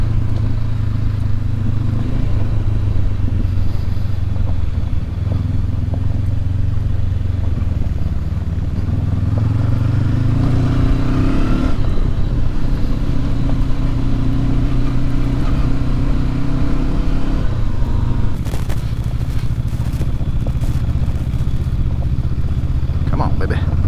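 A 2019 Honda CB500X motorcycle rumbles at a low, steady engine note on a loose gravel trail in Oregon, with clattering from rocks and a brief rougher burst near the end, close and loud throughout.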